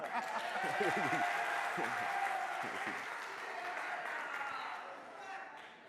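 Audience applause in a high school quiz show studio, sustained clapping that fades slowly, with a voice speaking over it in the first few seconds.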